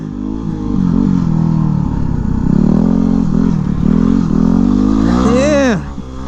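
A dual sport motorcycle being ridden, its engine droning steadily up close with wind rush, then revving hard into a rising, sweeping climb before cutting off near the end.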